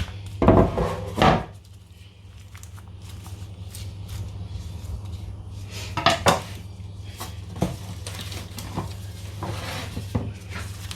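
Seasoned Jamaican curry goat meat with spring onions and garlic being mixed in a bowl: a few loud clattering knocks at the start and then scattered lighter clinks and scrapes of a utensil against the bowl.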